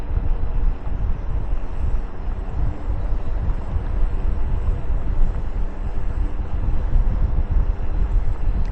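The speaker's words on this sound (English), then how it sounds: "It is pretty windy today or tonight" Steady wind rushes and buffets the microphone in a continuous low roar, with no voices.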